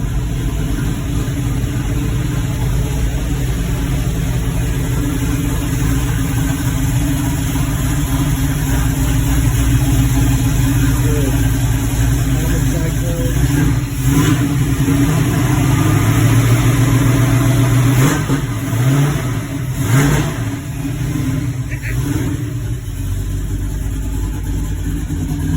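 A Mercury Comet GT engine runs for a long stretch, a loud steady idle with a low rumble that swells as it revs up and settles back, no talk over it.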